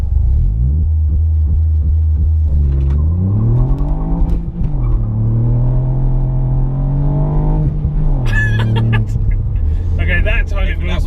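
A Ford Fiesta ST Mk8 accelerates hard with wheelspin, its engine note climbing through rising gears loud and close inside the cabin, then settling before people start talking excitedly near the end.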